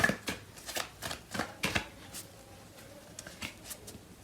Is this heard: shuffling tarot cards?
yes